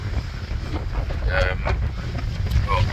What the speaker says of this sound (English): It's gale force winds up here.